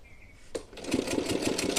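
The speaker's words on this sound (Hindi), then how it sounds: "अब हम आगे साइड सिलाई लगाएंगे कमर पट्टी पे" An electric sewing machine stitches the waistband of a small Laddu Gopal outfit. After a brief pause it breaks into a fast, steady, rhythmic whir close up.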